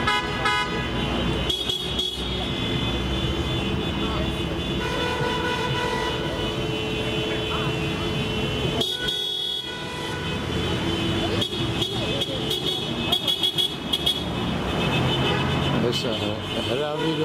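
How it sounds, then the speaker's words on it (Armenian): Car horns honking in Yerevan street traffic, repeated toots and longer blasts over engine noise and road hum, with people talking nearby. "Մեկ է սկսում է սիգնալ տալ"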